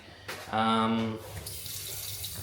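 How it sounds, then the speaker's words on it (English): Water runs at a moderate flow from the tap into a double kitchen sink in a Hanoi apartment, starting with a brief rising pipe whine and then settling into a steady splashing rush. "moderate flow on the water"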